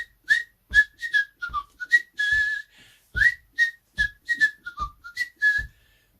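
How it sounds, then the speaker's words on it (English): A man whistles a lively, tuneful melody in short bright phrases with brief pauses, close and clear, while soft footsteps thud underneath as he walks down a road. "There's me walking down the road, whistling away."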